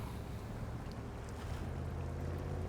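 In SnowRunner, a bone-stock truck with no snorkel is stuck in water that is too deep, giving off a faint, steady low engine rumble mixed with a sloshing, wind-like wash and no talking.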